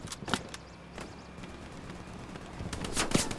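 A few sharp, distant gunshots ring out over a low, rumbling battlefield background in the Hell Let Loose video game, spaced seconds apart at modest volume.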